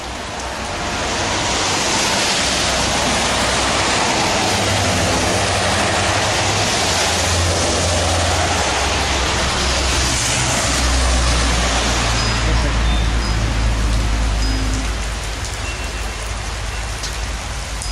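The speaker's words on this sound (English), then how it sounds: "But it is doing a pretty decent job of raining." Heavy rain pours down in a residential neighborhood, a dense, steady hiss of drops on surfaces lasting throughout, with faint low rumbles of passing vehicles underneath.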